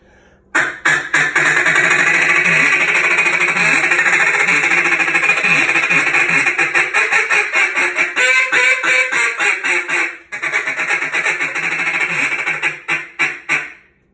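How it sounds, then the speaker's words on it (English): A duck call blown in a contest feed call, a fast, nearly continuous rolling chatter of buzzy quacks, loud and close, broken by short pauses and ending in a few spaced notes. "And that's your feed call"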